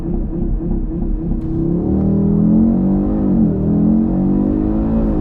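An Audi RS3 engine at full power during a launch control start, a loud, close, steady roar that swells and climbs in pitch as the car pulls away, with no talking.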